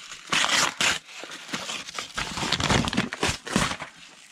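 Plastic bag packaging wrapped around cardboard crinkles and rustles as a mailed box of Silver Age comic books is unpacked, a dense, close run of crackling handling noise with no gaps.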